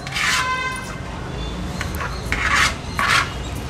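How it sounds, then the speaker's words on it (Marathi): A knife cuts the stem off a peeled raw banana, with a few short scraping, rasping strokes close up against a steady background hiss. "हे देठ आहे हे पहिला असं कापून घ्यायचे।"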